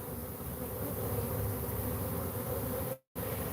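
Africanized bees produce a steady, dense buzzing drone that continues unbroken before cutting out abruptly for a moment and then resuming.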